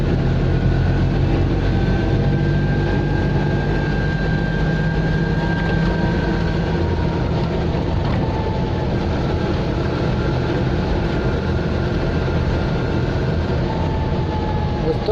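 An Invacar engine idles steadily after a carburettor fix, a loud, continuous low rumble heard close up with a slightly uneven, chugging edge.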